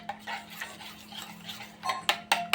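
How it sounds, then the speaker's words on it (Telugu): Eggs being whisked with salt, turmeric, chili powder and Maggi masala in a bowl for a bread omelette, light quick ticking strokes of a utensil against the bowl, soft and close, ending in a few sharper clinks. "మొత్తం ఎగ్స్ బాగా మిక్స్ అయిపోయేలాగా మొత్తం కలుపుకోండి."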